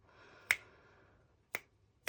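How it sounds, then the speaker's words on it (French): Three crisp finger snaps ring out alone in a quiet room, the first two spaced about a second apart and the third following quickly, each with a short, bright decay. "sur un claquement de doigts presque"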